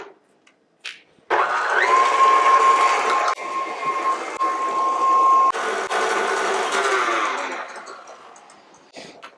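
Electric mixer whipping egg whites on its highest setting, a loud continuous motor whir with a steady high whine, briefly dipping and changing pitch as the beaters move, then tapering off at the end.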